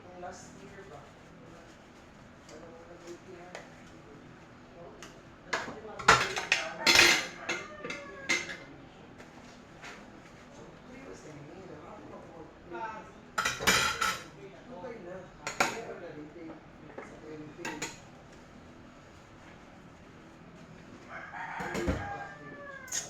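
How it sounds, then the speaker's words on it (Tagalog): Cooking utensils being washed in a kitchen sink: intermittent metallic clinks and clatters of pots and cutlery, fairly close, with a rooster crowing in the background. "So hugasan ko muna siya para wala nang hugasin dito sa ating lababo."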